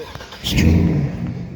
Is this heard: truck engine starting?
yes